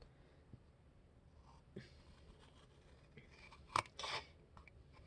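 Scissors snipping through a small paper business card, a few short crisp cuts near the end, with light handling noise before, close and fairly quiet.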